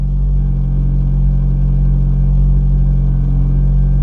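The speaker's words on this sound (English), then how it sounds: "we did get the car running" An Acura RSX with a swapped K24 engine, fresh from a timing chain and Type S oil pump install, runs at a loud, steady idle: a constant deep rumble with a faint high whine, close-up and without voices.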